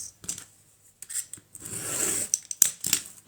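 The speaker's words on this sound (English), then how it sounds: "I'm just going to cut this." Scissors cutting through an old book cover while making a junk journal, with short snips and rustling paper strokes in irregular bursts, close and fairly quiet.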